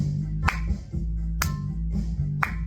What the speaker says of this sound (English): clap at the same moment you hear the piano press